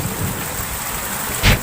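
Steady rain hisses across the whole stretch, with a brief louder swell of water near the end.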